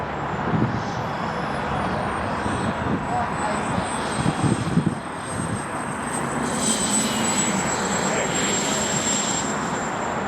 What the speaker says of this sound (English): turning base to final now, the Tomahawk fighter jet, piloted by Dave McQueen.